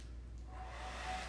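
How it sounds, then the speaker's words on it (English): Continuous whooshing roar of a hair dryer blowing close by, steady and fairly even throughout the short stretch. "So get ready for some white noise via the hair dryer."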